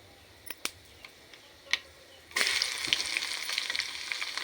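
Tempering spices for a dal are stirred in a pan on a low flame. A few light clicks and taps from utensils come first, then a loud, steady sizzle of frying breaks in and continues with scraping stirs.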